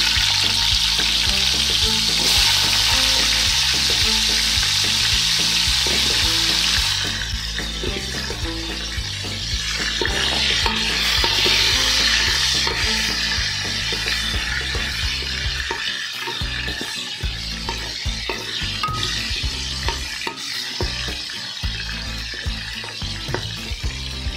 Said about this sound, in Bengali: আলুর সাথে আমি একটু লবণ মেখে আলুগুলি তেলের মধ্যে ভেজে নেব